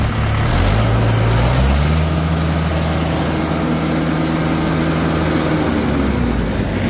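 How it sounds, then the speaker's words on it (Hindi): A tractor engine, apparently an Eicher 242, revs up from idle into a loud, steady drone that holds close and constant throughout. "दियो भाई थोड़ी सी रेस।"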